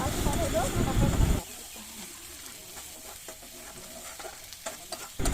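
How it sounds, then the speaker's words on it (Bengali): Pointed gourd bharta stirred in a pan, a dense close scraping and sizzling for the first second or so, then quieter light clinks and soft frying in the background. "একটু নাড়াচাড়া করে এবার নামিয়ে নেব।"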